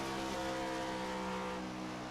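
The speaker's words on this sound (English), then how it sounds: "we can hear the car" A race car engine in the iRacing sim racing game at Las Vegas drones steadily at high revs, a loud, constant, buzzing tone that holds for the whole stretch with no talking.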